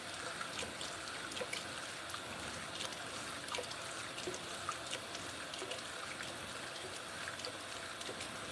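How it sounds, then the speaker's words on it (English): Cold tap water runs steadily onto a hot cast iron pan, giving a soft, continuous hiss and trickle at low level with no voices. "switch to cold water."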